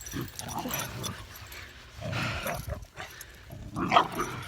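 Excited dog barking and yipping in bursts, fairly close, with whimpers between and some outdoor rustle and movement noise.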